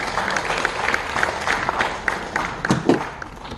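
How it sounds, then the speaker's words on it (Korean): An audience at a Jeonju literary forum claps in welcome for a speaker, a moderate burst of scattered applause that swells slightly before fading. "박수로 격려 부탁드립니다."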